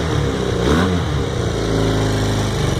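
A 1980 Honda CM400T motorcycle engine with freshly cleaned carburetors runs on choke close by, giving a brief rising rev and then settling into a steady, throbbing idle.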